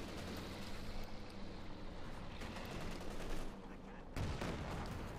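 Sustained gunfire and explosive bursts from a Company of Heroes 2 battle between tanks, dense and continuous with a louder burst near the end.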